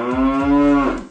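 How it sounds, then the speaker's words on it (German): A cow gives one long, loud, close moo lasting about a second, with a steady voiced tone that tapers off at the end. "Die Kuh macht Mu."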